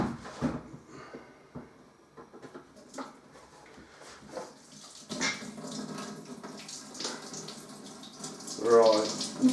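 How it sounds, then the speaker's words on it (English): Dark velvet stout home-brew beer runs from a pressure barrel tap, a soft trickling, splashing flow with scattered clinks and handling noises, and a voice speaks briefly over it. "Right, I'm pouring all of this through the tap now."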